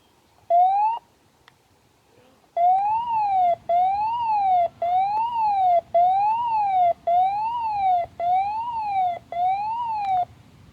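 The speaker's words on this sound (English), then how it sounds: "But yeah, that's the Siren Test." A loud siren test from a Midland WR11 weather radio wails in repeated rising-and-falling bursts, about eight in a row with short gaps, ringing out alone against quiet surroundings.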